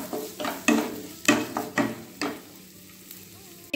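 Chicken goes into a hot pot for homemade chicken soup and gets stirred, a crackling sizzle broken by a series of rhythmic scraping and clanking strokes of a spoon against the pot, close and fairly loud, then quieter at the end.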